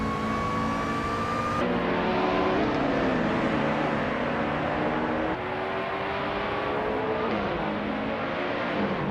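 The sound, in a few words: race cars driving on track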